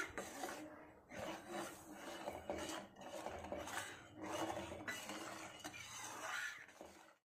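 Rice flour and sugar are stirred into mango kheer, with rhythmic scraping and rubbing strokes against the pan repeating close and steady, without talk.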